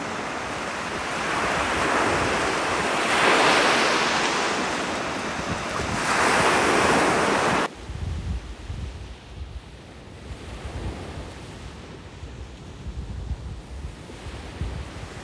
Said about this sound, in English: listened one more time to the waves rolling onto the shore